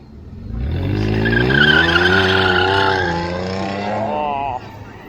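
A Dodge car drifts at night, its tires squealing in a long, loud, wavering screech that rises and falls in pitch for several seconds, with engine roar underneath.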